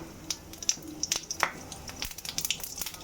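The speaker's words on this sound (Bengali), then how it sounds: "একটু জিরে ফোড়ন দিলাম, আর এলাচ আর লবঙ্গ" Cumin seeds, cardamom and cloves crackling in hot oil, with scattered sharp pops and spits over a soft background sizzle, close and fairly quiet.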